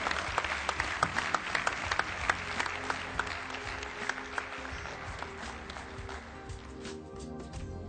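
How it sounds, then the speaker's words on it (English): Audience applause at an inauguration event, a dense patter of many hands with sharp individual claps popping out, steady at first and easing off toward the end. "Please give a very big clap to Dr. Jiten Bhatt."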